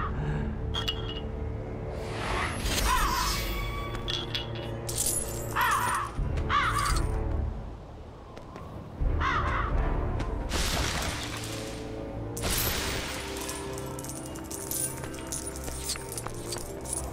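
A crow-like bird cawing in the video game LEGO The Hobbit, a few harsh calls amid busy game sound effects, clinks and shattering, with no talk.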